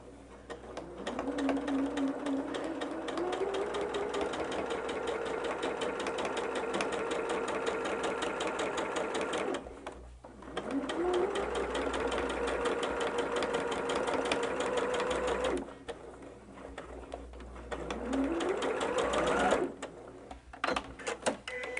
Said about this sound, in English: that's where we're going to start sewing. And again, it's a long basting stitch.